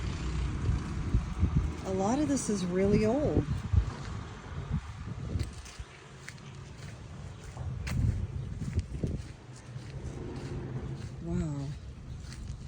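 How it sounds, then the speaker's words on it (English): A tractor rolls past an old, partly restored dairy-farm barn in Denmark, its low engine rumble running steadily beneath close conversation and gusts of wind on the microphone. "here comes a tractor"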